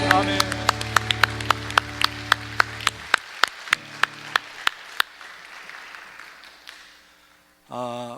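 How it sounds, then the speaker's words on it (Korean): A church congregation claps in praise during an evangelism festival service. Sharp, regular claps in a steady rhythm ring out over a sustained organ-like musical tone, then thin out and stop, and a voice enters near the end. "우리 하나님께 영광의 박수 올리겠습니다."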